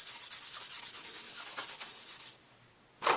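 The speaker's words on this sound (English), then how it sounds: "I'm going to use the embossing buddy." An embossing buddy is rubbed over a card while making a watercolor card. It gives a close, steady scratchy rubbing for about two seconds, stops briefly, then starts again, with no talking.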